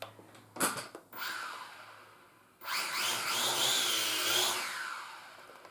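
Small Syma X5C quadcopter drone motors spin up on a floor indoors, a brief whirring burst followed by a longer steady high-pitched buzz, close and fairly loud.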